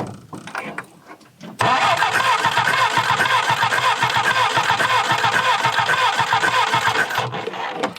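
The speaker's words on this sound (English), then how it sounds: "try to turn it over again" A 1965 Jeep CJ5 engine cranks over with a loud, steady churning whir for several seconds after a brief quieter lead-in, close to the microphone.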